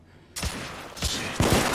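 Gunfire in the Victorian-era shooter The Order: 1886, with loud bursts of shots starting abruptly after a quiet moment, then rapid volleys and a heavier burst near the end.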